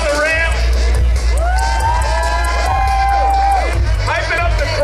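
A crowd cheers, whoops and shouts steadily at a Red Bull Soapbox Race in Iowa, with loud voices mixed over a constant low rumble.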